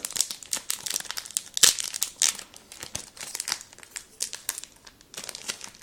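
A foil trading card sachet is torn open by hand with some difficulty, giving close, irregular bursts of crinkling and ripping packaging, with no talk.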